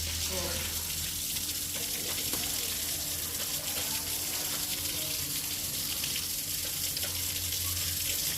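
Water gushes and splashes steadily as a house is washed down, a continuous broadband rush that holds the same level throughout, with faint talk under it.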